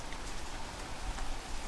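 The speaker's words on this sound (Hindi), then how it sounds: "बारिश का कहर बढ़ता जा रहा है।" Heavy rain falls in a steady, faint, even hiss of drops on a surface, continuous throughout with no voices.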